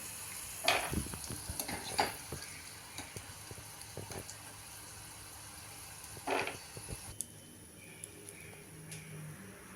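Peanuts fry in oil, sizzling quietly while stirred, with scattered sharp crackles and scraping clicks popping up now and then.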